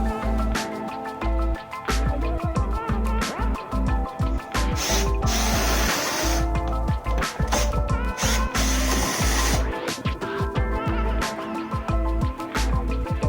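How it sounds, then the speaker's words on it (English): A power drill fitted with an extension and a 90-degree attachment works bumper screws loose on an XT-style bumper, whirring in loud repeated bursts with brief pauses between them. "I used an extension with a 90-degree drill attachment"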